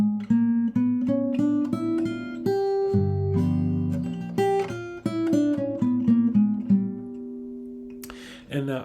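A G half-whole symmetrical dominant scale played as a clear run of separate, sustained pitched notes, each struck and ringing in turn, close and alone, with no voices.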